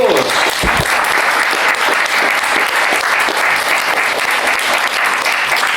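Loud, dense applause from a convention panel audience at a comics event, continuous crowd clapping at an even level throughout with a brief low thump near the start.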